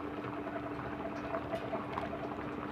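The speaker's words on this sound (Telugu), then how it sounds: "మన చేపల కూర ఉడుకుతుంది." Telugu-style fish curry simmering in a covered pot, a faint, steady low bubbling with soft burbles and no speech.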